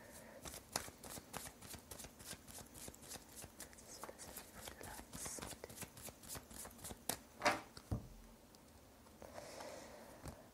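Cards are shuffled for a three-card reading, giving quiet, rapid riffling and patting sounds in bursts, fairly close, with a few louder shuffles near the end.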